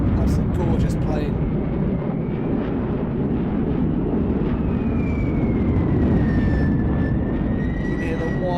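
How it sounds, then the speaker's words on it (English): Jet engines roaring steadily in a Roblox airshow, with a thin rising-then-falling whistle from the air intake audible over the loud rumble. A voice talks over it. "You can hear the whine of the engines there. That's the intake sucking in huge amounts of air."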